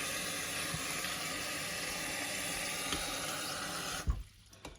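Cold water pours steadily and fairly close into a hot pot, a continuous rushing flow that stops abruptly near the end, followed by a brief clatter.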